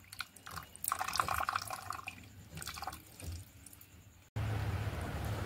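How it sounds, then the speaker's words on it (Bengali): Juice from a red momo sauce paste dripping through a strainer, an irregular trickle and patter of liquid, close and fairly quiet, cut off abruptly by a steady flat hiss. "এই যে রসটা পড়ছে দেখতেই পাচ্ছেন।"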